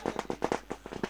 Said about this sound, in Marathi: फटाक्यांच्या आतिषबाजीनं इथे मान्यवरांचं स्वागत केलंय